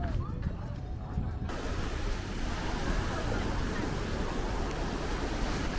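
Surf on the Gulf of Aden beach at Berbera, Somaliland, gives a constant loud roar of waves that is heavily mixed with wind buffeting on the microphone.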